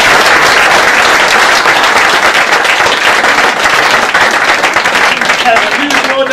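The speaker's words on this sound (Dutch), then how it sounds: "maar met applaus voor meester Roel" A school audience applauds teacher Roel at a children's musical, dense sustained clapping from many hands filling the room steadily from start to finish, with voices faintly mixed in underneath.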